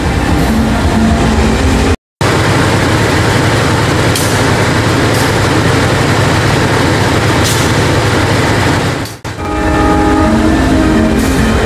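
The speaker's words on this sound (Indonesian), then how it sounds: "Jalur 4 dari arah timur masuk kereta Logawa dari Ketapang tujuan Purwokerto." A passenger train rumbles in loud and close at a station with steady clattering, its horn sounding in a few short blasts as it draws in.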